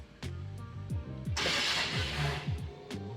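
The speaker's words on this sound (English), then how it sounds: "you have to hit the starter, and then that'll turn the power steering pump on like this" A TDI diesel swapped into a Willys Wagon cranks over on its starter, a rhythmic chugging with a hissing, rising burst midway, then it keeps turning, close and fairly loud.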